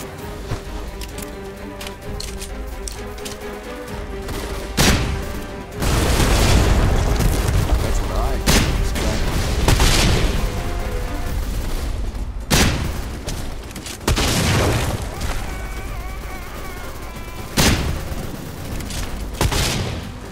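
Repeated gunfire bursts and booming explosions in the first-person shooter Deadfall Adventures, with heavy, sustained blasts, sharp transient cracks and background game music, loud and close throughout, with brief speech mixed in.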